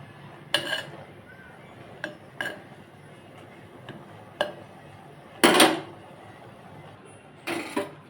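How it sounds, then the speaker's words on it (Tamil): A ladle clinks against a metal pot while stirring spinach kadaiyal, a Tamil mashed greens dish, after it comes to a boil; a handful of sharp scraping knocks are spaced irregularly, with one louder scrape near the middle, over a quiet kitchen background. "கொஞ்சம் நல்லா கொதி வந்த பிறகு நம்ம இந்த மாதிரி கிளறி விடணும்."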